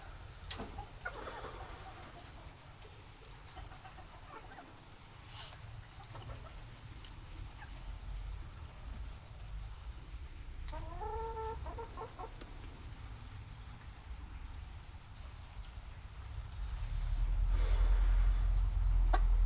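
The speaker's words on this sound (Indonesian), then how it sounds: "Kita sambil nunggu juga ini ayam kita yang jenis Elba ini bertelur" Elba breed chickens cluck softly in a coop, with scattered calls and one brief rising cackle midway, against a steady background hum that grows louder near the end.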